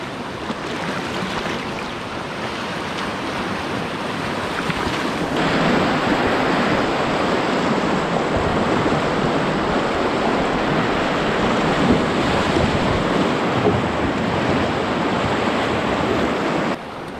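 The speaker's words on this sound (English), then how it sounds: "Lots of water in the boat." Rushing whitewater surges around a canoe on a northern river, with waves splashing against and into the boat; a continuous loud roar of churning water that intensifies partway through and holds steady.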